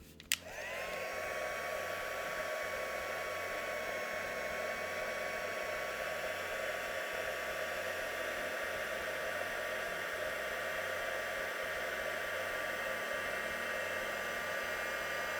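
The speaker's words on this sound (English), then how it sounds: "let's give that a heat. Making sure that I point my heat gun away from my embossing powder" A heat gun blows a steady, even whoosh for the full stretch, melting embossing powder on gloss card, with only a brief click as it switches on.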